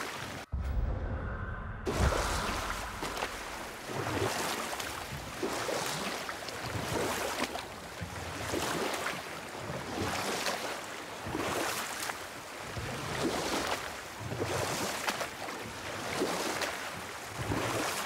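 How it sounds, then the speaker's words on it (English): A loud, continuous roar of rushing water from a huge waterfall in the video game God of War (2018), surging in slow swells without pause. "I've never seen a waterfall so big."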